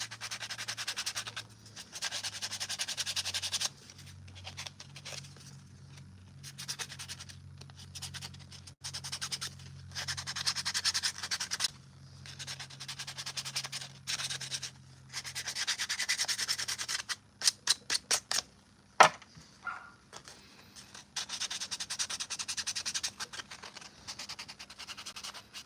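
Hand sanding of Mandalorian armor with 220 grit sandpaper, a steady run of dry rubbing strokes up close, broken by short pauses and a few sharp scratchy taps near the end, with no talking.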